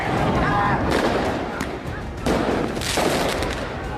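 Fireworks set off by rioters in a street at night crackle and bang in dense, loud volleys with brief lulls between the bursts, over a noisy crowd background.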